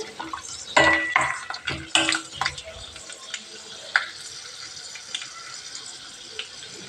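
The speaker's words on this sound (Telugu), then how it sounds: "జీడిపప్పు, ఇది కొంచెం ఫ్రై అవ్వాలి." Cashews frying in a pan for kothimeera rice: a soft sizzle under sharp clinks and scrapes of a spoon against the pan, busier at first and then settling into a quieter fry.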